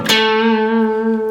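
A single distorted electric guitar note is picked and sustained to close a blues lick, ringing clearly and loud with a gentle effects-laden tail.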